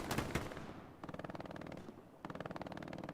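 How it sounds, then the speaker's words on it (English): Machine-gun fire in Hell Let Loose comes in rapid, rhythmic bursts at moderate loudness, with short pauses between the volleys. "Multiple synchronized shots."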